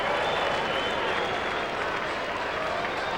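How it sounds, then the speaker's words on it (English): A crowd at an Australian football match between Port and Norwood claps in a sustained, moderately distant wash of applause with murmured voices through it, steady throughout with no distinct individual claps. "you can tell by the applause that Norwood supporters not all that pleased with their side's effort today"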